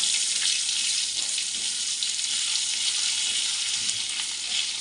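Onion frying in hot oil in a pan, with a loud continuous close-up sizzle holding steady throughout.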